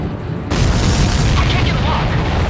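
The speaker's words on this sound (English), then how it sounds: "Did you see that explosion?" Explosion in the Ace Combat 7 flight combat game: a sudden loud boom that then rumbles on as a dense, sustained roar for about two seconds.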